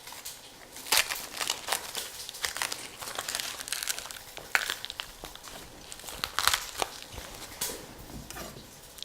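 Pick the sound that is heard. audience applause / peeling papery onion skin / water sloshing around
peeling papery onion skin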